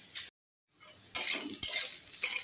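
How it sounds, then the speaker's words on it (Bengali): Potatoes being fried and stirred in a pan: metal spatula scrapes and clinks come in short bursts over a light sizzle, with a silent gap near the start. "আলু ভাজা হচ্ছে বন্ধুরা"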